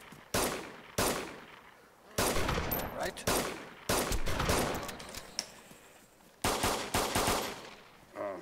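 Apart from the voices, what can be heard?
player shooting a gun in the video game DayZ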